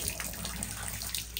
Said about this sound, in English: turn our water on, pull up, and shower's working